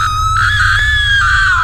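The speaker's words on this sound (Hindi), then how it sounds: "पागल की तरह चीखने चिल्लाने लगती है" A cartoon woman screams wildly in the Gulli Bulli animated series, a loud, sustained high-pitched shriek that holds and wavers for nearly two seconds over a low background rumble, with no talk.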